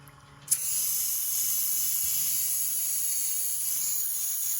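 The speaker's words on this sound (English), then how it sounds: "And then he's just spraying the water out into the sink." A Luminess Air airbrush sprays water into a sink, a sudden onset after a brief click and then a steady, loud hiss that continues without a break, with no talk.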